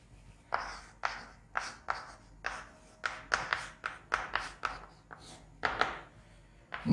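Chalk or pen writing out a definition during a chemistry lesson, crisp tapping strokes in irregular quick bursts, close and clear with no talk.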